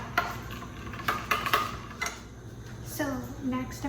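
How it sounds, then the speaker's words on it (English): A knife stirs boba cupcake batter in a bowl, making quick, close clinks and scrapes against the sides in an irregular rhythm. "Then I'm going to mix it up with a knife."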